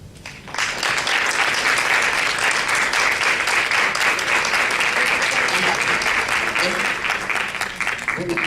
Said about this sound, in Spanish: gracias por los aplausos espontáneos